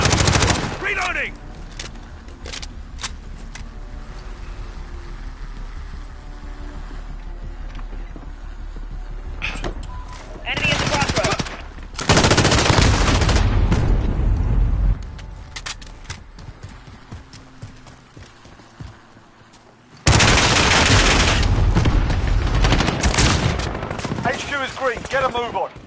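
Call of Duty Modern Warfare gunfire erupts in loud, dense bursts, separated by quieter stretches. Heavy automatic volleys cut in sharply around the middle and again near the end, and game noise fills the gaps.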